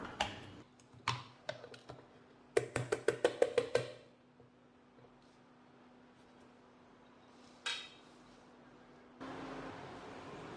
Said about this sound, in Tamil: இப்போ இதை ஒரு பிளேட்டுக்கு மாற்றிட்டு நான் பீஸ் போட்டு காட்டுறேன்